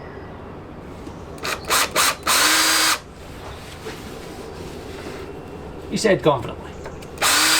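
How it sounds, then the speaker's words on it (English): A power drill fitted with a stepped cone cutter bores a 22mm hole in a Mazda RX8 car chassis, several short loud whining bursts with pauses, close up, with a voice speaking briefly. "22mm hole in the chassis with a stepped cone cutter"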